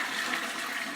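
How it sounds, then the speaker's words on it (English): Toilet flush from an upstairs flat, heard through a broken soil pipe in a damp space below: a brief, faint hiss of rushing water with no voices. "the upstairs neighbour flushed the toilet about 3 hours into the survey"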